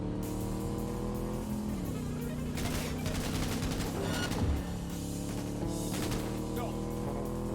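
Bursts of rapid gunfire from NPCs shooting each other in Cyberpunk 2077, heard in several fusillades over a droning engine hum and background music.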